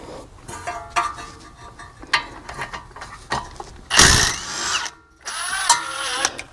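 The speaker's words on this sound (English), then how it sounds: "impact gun's not really designed for something this heavy. But we're going to see if it'll take it off." Pneumatic impact gun hammering at a brake caliper bolt on an Acura during a front brake rotor job, short loud bursts with a strong rattling burst midway, close to the mic with pauses between, no talking.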